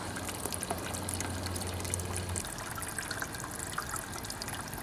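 Water pours steadily into a container to mix clay slip, a continuous trickling splash with a low hollow tone in the first half that fades into a thinner, even flow, heard close with no talking.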